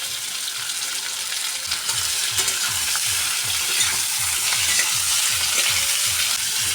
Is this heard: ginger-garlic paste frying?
yes